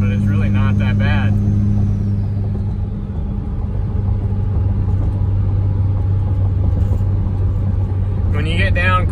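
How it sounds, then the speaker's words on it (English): A 5.9 Cummins diesel truck fitted with an S468 turbo, towing, drones with a steady loud engine rumble and a faint high turbo whistle that sags early on, while people talk over it at the start and end. "It spools just fine. Not really any more lag than you'd have in a stock turbo."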